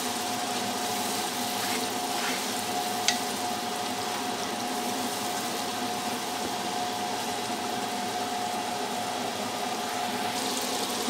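Spice masala fries in a pan while cooking lobia masala, giving a steady broad sizzle and hiss that holds evenly throughout, with a faint tone humming underneath and one brief clink.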